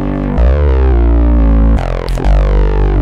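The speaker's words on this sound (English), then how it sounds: "Combining all three of these layers together, we get one super massive bass sound." A layered, acidy, throaty synth bass from the Strobe synth in Cubase, thick and massive with a gritty, buzzing edge and shifting filtered tone, loud and upfront, played alone in short phrases.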